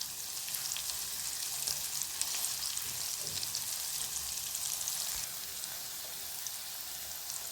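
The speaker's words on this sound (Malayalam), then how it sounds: "നമുക്ക് ഇതേപോലെ ബാക്കിയുള്ളതെല്ലാം ഒന്ന് ഫ്രൈ ചെയ്തെടുക്കാം." Pieces of cassava (kappa) fry in hot oil with a steady, dense sizzle and crackle that carries on evenly throughout, fairly quiet and with no talking.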